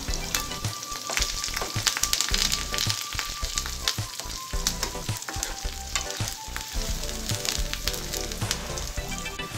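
Dried red chilies, sliced onions, green chilies and curry leaves crackle and sizzle steadily in hot oil, with a dense continuous fry and scattered clinks of a stirring spoon against the pan.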